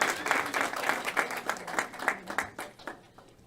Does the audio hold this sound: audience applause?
yes